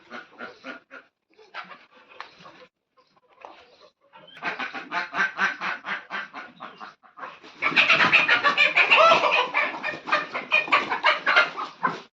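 A flock of chickens clucks and squawks close by while pecking at onions, sparse at first, then growing into a loud, dense burst of overlapping calls that continues in rapid pulses.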